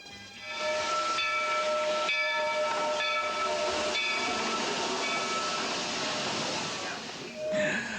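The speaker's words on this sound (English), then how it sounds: "The train is pulled by a steam engine that's as old as Mickey." An old steam locomotive pulling a train at Disney World's Mickey's Birthday Land gives off a loud, continuous hiss of steam mixed with a sustained whistle tone that drops away near the end, with no voices over it.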